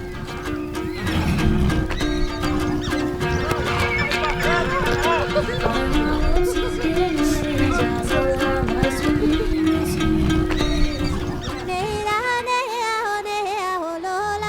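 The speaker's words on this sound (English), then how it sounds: "these horses were key in enabling Genghis Khan to create such a powerful army" Mongolian horses whinny and neigh loudly over steady clip-clopping hooves, with a sustained tonal drone running underneath throughout.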